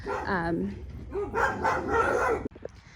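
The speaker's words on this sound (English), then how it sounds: "Sorry about that, my dogs were going a little crazy." Pet dogs at home bark and yip excitedly in close, repeated bursts with whimpering tones, a few sharp yaps trailing off at the end.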